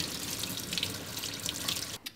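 Tap water runs steadily at a kitchen sink while raw rabbit meat is rinsed under it, a close, continuous splashing hiss that cuts off abruptly near the end.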